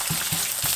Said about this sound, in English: We're gonna fry it up